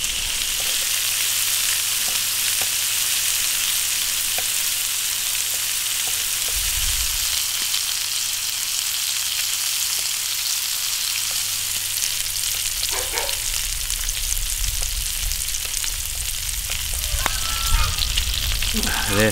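Pork belly fries in an iron wok as its fat renders, giving a steady, loud broadband sizzle throughout with occasional stirring scrapes and a brief low thump partway through.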